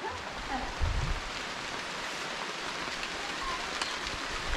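Steady rain falls in a village in the Konkan region near Ratnagiri, a constant soft hiss of drops on surfaces heard close and unbroken, with a faint thud early on and no voices.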